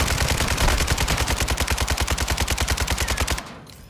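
Automated turret in Call of Duty DMZ fires a loud, rapid, steady burst of gunfire, about thirty evenly spaced shots over three seconds, then cuts off abruptly into quiet.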